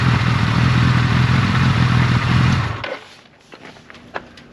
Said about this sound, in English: That is how you want it to go when you first start up a bike after doing a lot of work to it